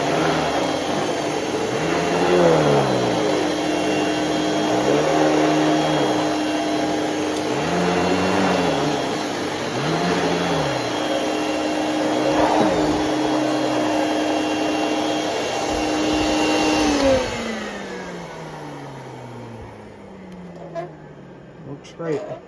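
A Hoover Celebrity vacuum cleaner runs close by with a loud, steady motor whine that rises and dips slightly, then winds down and fades out after it is switched off.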